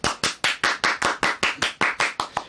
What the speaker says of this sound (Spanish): ¡Gorka Villalba, un aplauso!